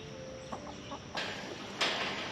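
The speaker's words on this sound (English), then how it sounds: "We're gonna give this to the chickens." A backyard chicken clucks softly a few times nearby, followed by two brief louder noisy bursts against a steady background hiss.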